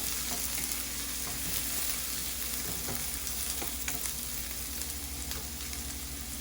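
Half a large white onion frying in a pan for a curry, a steady close sizzle with faint crackles and occasional stirring scrapes, continuous and with no voices.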